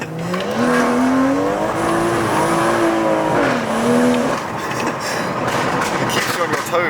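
Hard acceleration from a 450bhp BMW M240i, a loud sustained engine note that climbs steadily in pitch, dips at a gear change, then climbs again before easing off, with road and wind noise underneath.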